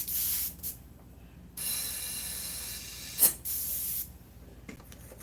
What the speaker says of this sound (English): I'm going to put that color, the darker blue, the thin color, into the airbrush